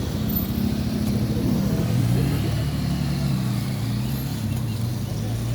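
Steady road traffic on a street in Chetumal, Mexico, with cars passing close by in a continuous low engine rumble and tire noise that swells and fades without pause.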